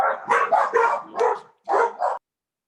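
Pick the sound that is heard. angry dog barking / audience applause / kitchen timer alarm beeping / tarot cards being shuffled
angry dog barking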